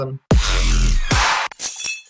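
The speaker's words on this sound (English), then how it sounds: "a glass break" A glass-break sound effect used in music production: loud, close shattering crashes in quick succession, the first long and bright, followed by a shorter smash and a final burst of tinkling fragments.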